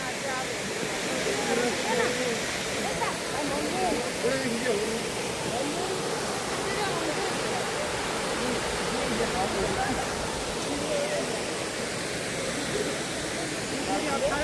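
A waterfall in Meghalaya, where three falls drop from above, roars as a dense, unbroken rush of water, steady and fairly close for the whole stretch, with faint crowd murmur beneath.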